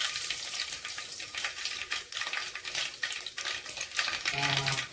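Curry leaves spit and crackle as they hit hot oil for a tempering with cumin, a dense, steady sizzle up close with sharp pops scattered throughout and no voices.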